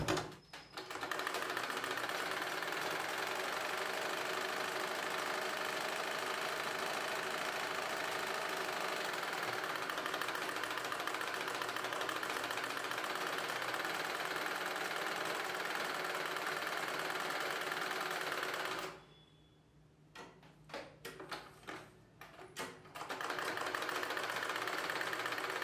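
A sewing machine runs steadily while stitching the folded edge of a blouse collar, a continuous close whirring hum that drops out briefly near the end with a few short stitch bursts before resuming.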